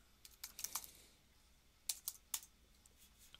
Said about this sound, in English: It helps if I type it in correctly.